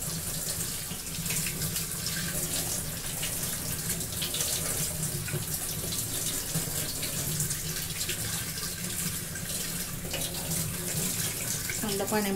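Potato chips for homemade crispy potato wafers being rinsed in cold water in a kitchen sink, a steady, loud hiss of running tap water filling the whole stretch with no talk over it.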